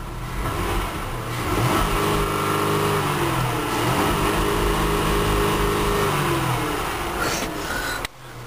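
A 2009 Dodge Journey SXT engine runs loud and close, revving up and falling back in a couple of swells over a steady idle, then cutting off abruptly near the end.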